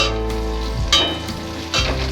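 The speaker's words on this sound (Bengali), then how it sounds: "পেঁয়াজ ভাজার মধ্যে আমি এখানে কয়েকটা থেঁতো করা রসুনও দিয়ে দিলাম।" Onions fry with crushed garlic in a pan over a medium flame, giving a steady close sizzle with a couple of brief stirring scrapes.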